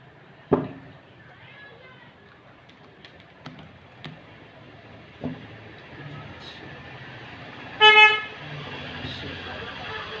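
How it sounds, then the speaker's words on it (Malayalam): Vehicles pass on a road outside, with a couple of short horn toots, one louder near the end, faint and distant beneath someone talking indoors. "വണ്ടികളൊക്കെ അതിൽ കൂടെ ഇതിൽ കൂടെ പോകുന്നുണ്ട്"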